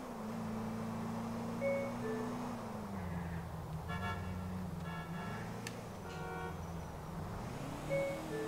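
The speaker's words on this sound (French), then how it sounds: "M'en fous de ton klaxon, moi." Car horn honking in Grand Theft Auto IV, short horn toots recurring at intervals over a steady engine drone and game traffic ambience.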